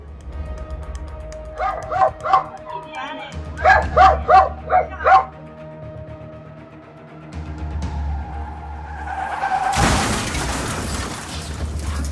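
A dog gives two quick clusters of sharp, close barks and yips, then falls quiet as a low rumble and a burst of loud, rushing wind noise take over.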